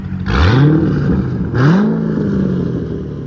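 A straight-piped 2007 Chevrolet Corvette Z06 with a 7.0L V8 revs loudly twice, each sharp throttle blip rising and falling, with the raw exhaust rumbling steadily between the bursts.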